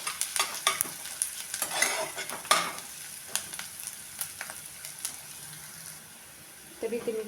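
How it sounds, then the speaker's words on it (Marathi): Onion sizzles as it sautés in oil in a pan for a grated potato tiffin dish, giving a close frying hiss with brisk scraping and stirring taps that eases off near the end. "एक मिनिटभर आपल्याला कांदा परतून घ्यायचा आहे तेलामध्ये"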